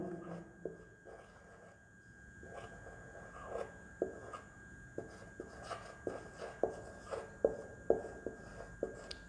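A teacher writes the names of chemical elements on a board during a biology lecture: a long run of quick, close tapping and scratching strokes that grow sharper and more frequent toward the end, with no voice over them.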